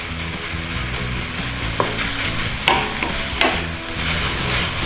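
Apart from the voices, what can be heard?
stir frying kimchi fried rice in a pan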